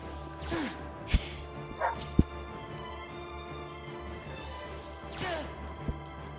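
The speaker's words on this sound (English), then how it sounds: "We got some grumpy puppies. It's wild dogs" Several grumpy puppies bark, yip and whine indoors nearby in short irregular bursts, with sharp loud yelps standing out and background noise between them.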